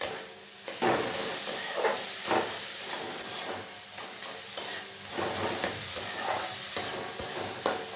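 Shrimp and red amaranth greens fry in a pan with steady sizzling hiss, broken by repeated scraping stirs of a spatula, close and continuous without talk.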